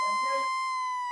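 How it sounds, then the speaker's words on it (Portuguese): A steady electronic siren tone plays as a sound effect in a sports news show, holding a high pitch with harmonics from start to finish, briefly layered with low background chatter at the start. "Vamos soltar a sirene"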